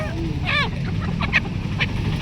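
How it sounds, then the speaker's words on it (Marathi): Ducks at a Saturday poultry and goat market in Chakan give a short burst of nasal quacks, then a few fainter calls over a busy market background. "दादा बदकं पण आहेत काय आज?"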